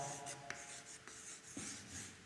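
Pen writing math equations for x and y axes on paper, with soft scratchy strokes and a few light taps, quiet and close with no talk.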